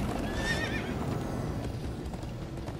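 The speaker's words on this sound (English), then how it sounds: "Come on, horses!" Horses in the Minecraft Story Mode video game give a sharp, wavering whinny early on, then their hooves keep galloping steadily under a dense, noisy game backdrop.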